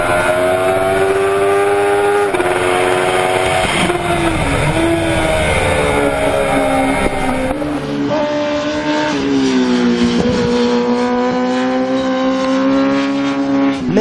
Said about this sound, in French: Le 4 cylindres marche vraiment très fort.